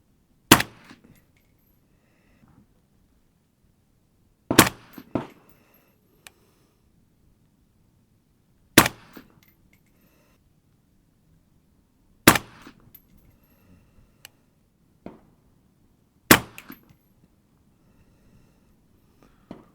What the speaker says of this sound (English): I'm going to shoot this at the bullseye in the lower left.